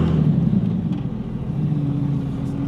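A manual-transmission Cummins diesel truck with a dual-disc clutch drives along and shifts into third gear, its engine a steady, close, loud low rumble with a slight change in pitch as the gear engages.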